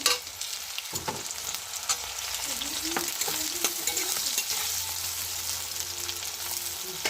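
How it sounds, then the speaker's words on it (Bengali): Onions frying in a wok (kadai), stirred now and then, giving a constant hissing sizzle broken by a few scraping strokes of the spoon, close up and without speech. "নেড়ে নিচ্ছি একটু পেঁয়াজটা"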